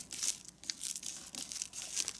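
Paper being creased and folded by hand for an origami jack-o-lantern, giving soft close crinkling and crisp rustles in short bursts, with no talking.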